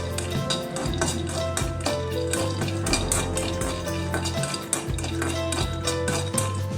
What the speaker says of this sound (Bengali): একটুখানি কাঁচা বাদামটা আমি ফ্রাই করে নিলাম।